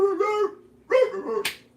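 A dog gives two close, short, whining barks, followed by a brief noisy burst, with no other sounds around it.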